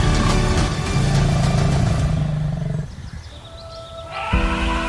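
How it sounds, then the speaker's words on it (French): Lions in the African wild growl and roar while feeding on prey after a hunt, a rough, continuous close rumbling that thins out midway and then swells again, with no voices. "les lions commencèrent à se partager le butin après une chasse difficile"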